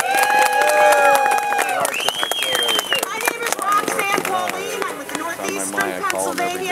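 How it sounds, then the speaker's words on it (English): A crowd at a labor solidarity rally in Scranton cheers and applauds, with loud excited voices, whoops and shouting over a wash of clapping, lively and close throughout. "Give yourself a big round of applause."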